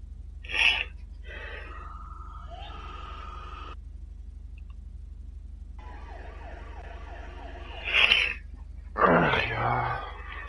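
Ambulance siren in the GTA 5 video game, a wailing tone rising and falling through the middle of the clip at moderate level, with short bursts of talk and game noises before and after.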